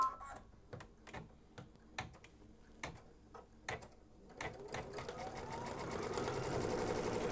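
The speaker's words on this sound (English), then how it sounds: "I'm going to go ahead and stitch the whole motif just like I did last time" An embroidery machine stitches a motif onto a pillowcase for a continuous border, starting with sparse sharp ticks and needle taps and building into a steadier, louder mechanical whir, close up and quiet overall.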